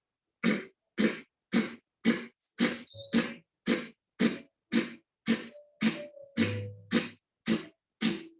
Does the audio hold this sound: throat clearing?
yes